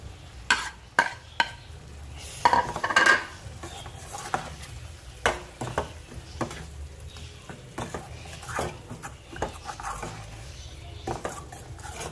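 Chicken pieces go into a pan of hot butter masala gravy with oil pooled on top, giving scattered sizzles and sharp clinks of a utensil against the pan, loudest early on and then softer intermittent stirring.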